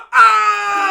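A man gives one loud, sustained scream of about a second, close up and strained, alone without other sound.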